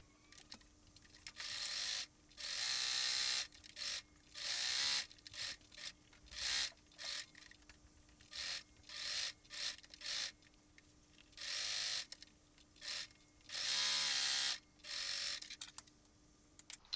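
A sewing machine stitches jersey dress fabric in repeated short bursts of a few seconds each, with brief pauses between runs, close and fairly loud, no talking.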